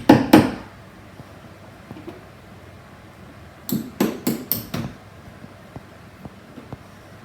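Sharp hammer blows ring out as wall plugs are driven into a wall during a kitchen fit: one pair at the start, then a quick run of four strikes, each a crisp knock on a hard surface.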